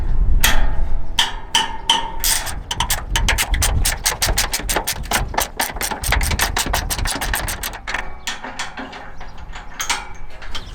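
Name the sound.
wrench loosening a bolt on MacDon FD2 header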